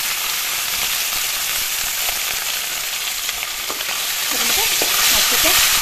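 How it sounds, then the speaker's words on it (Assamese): Small fish fry in hot oil for a bitter gourd dish, a loud, constant close sizzle with light crackles and a few utensil clinks growing busier toward the end. "মাছকেইটা ফ্ৰাই কৰি ল'ম।"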